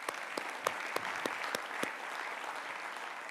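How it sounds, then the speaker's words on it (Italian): Applause fills a members' general assembly hall, a faint, even wash of many hands with sharper nearby claps popping out at a quick, irregular rhythm. "Fatele un applauso perché lei ha fatto tutto il lavoro."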